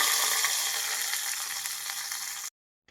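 Hot oil tempering with curry leaves and cumin poured into a cumin tambuli gives a bright continuous crackling sizzle, loud and close, that stops abruptly before a brief clink at the end.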